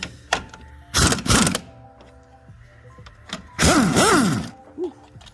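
Bolts come out during a lowering spring install on a 10th-gen Honda Civic, heard as short, close whirring bursts from a power tool whose pitch rises and falls, separated by quiet pauses and light clunks.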